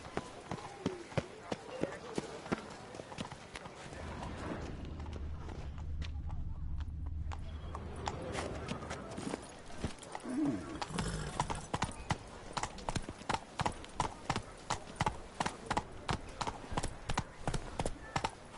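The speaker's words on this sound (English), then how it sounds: "Run, Roach." A horse gallops in the video game The Witcher 3: a rapid, rhythmic clip-clop of hooves, loud and steady, with a whooshing rush in the middle and faint voices in the background.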